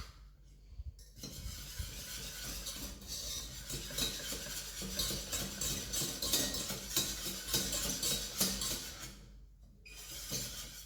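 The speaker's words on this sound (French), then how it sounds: "maintenant que le beurre est bien fondu, on peut y ajouter les 80 g de farine. Et on mélange." Flour stirred into melted butter in a pan to make a roux, a steady, close scraping and swishing of a utensil against the pan bottom with faint clinks, continuing for around eight seconds between brief quiet gaps.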